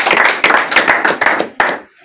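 An audience clapping to welcome Sami at a gathering, a short burst of quick close handclaps that tapers off with a final clap before stopping, with a voice speaking under it.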